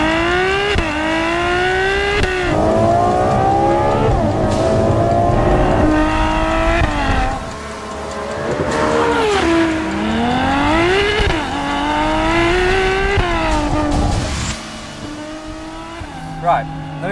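A Ferrari F12 TDF's 6.3-litre naturally aspirated V12 revs hard and accelerates, its pitch climbing and dropping through gear changes, loud and close, with a voice talking at points.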